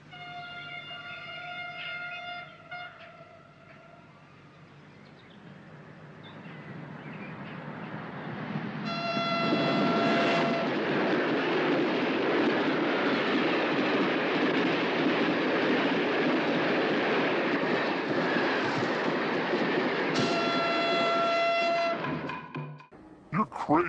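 A train runs loud and steady on its rails in a film scene, with a horn or siren tone sounding near the start, cutting out, then returning around the tenth and twentieth seconds before the noise drops abruptly at the end.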